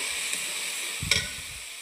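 Food turning lightly golden in a pan sizzles steadily as it is stirred, a continuous bright hiss with a few soft scraping thumps from the utensil midway.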